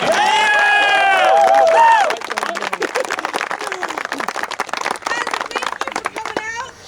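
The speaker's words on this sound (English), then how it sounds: "Give them a round of applause." An audience applauds and cheers for visiting guests, a sergeant and his crew, with whoops and shouts over dense clapping that starts strong then thins into scattered claps and voices.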